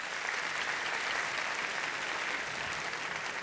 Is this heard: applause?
yes